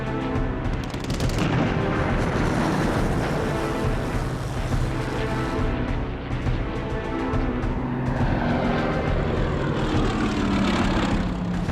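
RAF propeller fighter aircraft scramble, engines roaring loud and continuous with a rough, throbbing drone that swells and shifts as planes pass, dense and unbroken throughout.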